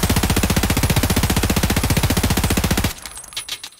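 A P90 firing SS190 rounds in Escape from Tarkov, a rapid, even full-auto burst of loud close shots lasting nearly three seconds, then stopping with a brief echoing tail.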